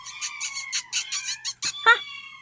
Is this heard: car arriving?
no